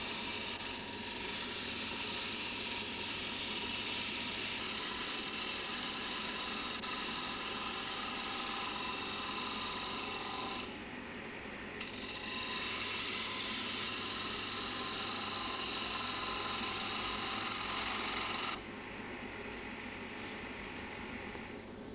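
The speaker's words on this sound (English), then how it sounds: "In this instance, we're using a Robert Sorby high performance bowl gouge." A bowl is turned on a wood lathe with a Robert Sorby high-performance bowl gouge, a steady dense whirring hiss that runs throughout with two brief dips as the cut pauses.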